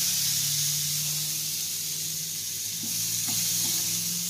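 Morel mushrooms laid on a hot, smoky grill give a steady broadband sizzle and hiss throughout, with a low hum beneath and a few soft clicks near the end.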